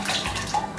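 Three cups of water pour into a blender jar for a mango passion tropical juice with carrot, a short, steady, close splashing stream with a slight gurgle.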